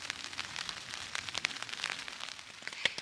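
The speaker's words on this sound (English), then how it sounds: "As you can probably hear, it's raining." Rain falls steadily on a camping tent during a hike on Vancouver Island, a close, dense patter of drops with occasional louder taps.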